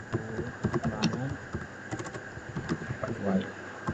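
Computer keyboard keys pressed while saving code, a quick run of close, light clicks with a voice murmuring underneath.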